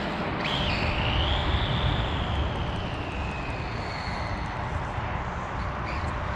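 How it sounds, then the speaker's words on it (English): Arrma XO1 RC car motor running, a loud continuous high whine that rises and then falls, with steady rumble underneath. "That Arma motor does sound nice though."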